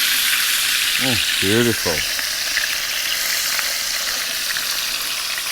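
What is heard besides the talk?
tomahawk steak searing in olive oil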